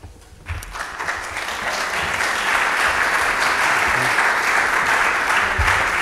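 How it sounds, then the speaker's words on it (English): An audience at a panel discussion during a biblical festival breaks into applause, starting quickly and swelling into sustained, even clapping that stays loud through the end. "we should give him another round of applause"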